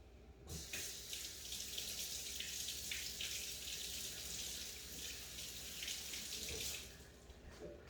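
Tap water pours into a sink to rinse asparagus, a steady, even gushing stream that starts abruptly and runs for several seconds close by, with no voices.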